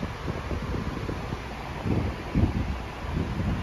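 Steady low wind roar buffets the microphone on a moving ship's deck, with a few stronger gusts swelling midway through; no voices.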